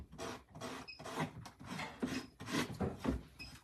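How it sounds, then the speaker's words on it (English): A sanding block rubbed back and forth along a wooden jewelry box edge, producing about a dozen rhythmic raspy strokes, close and moderately loud with no talking. "I can take this sanding block and sand off that edge."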